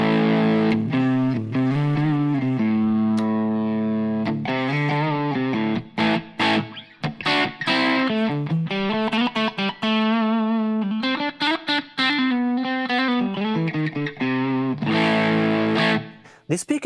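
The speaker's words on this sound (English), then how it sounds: "you can switch instantly to the other sound, which is the overdrive" An Enya Nova Go Sonic guitar is strummed through its overdrive, giving a loud, sustained, distorted tone with ringing chords and sharp string attacks that run nearly continuously.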